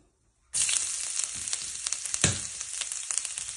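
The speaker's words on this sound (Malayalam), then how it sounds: "ഇപ്പോൾ ക്യാരറ്റ് ചോപ്പ് ചെയ്ത് വെച്ചാൽ ഒന്ന് നന്നായിട്ട് ഫ്രൈ ആക്കാം" Chopped carrots drop into hot ghee for ghee rice and burst into a loud, bright sizzle after a moment of silence, crackling steadily up close with occasional stirring pops.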